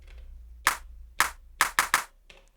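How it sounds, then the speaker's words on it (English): Clap sample played on an Elektron Digitakt drum machine, five sharp dry claps, two spaced single hits followed by a quick triplet fill, alone against near silence. "Maybe add some fills to this clap."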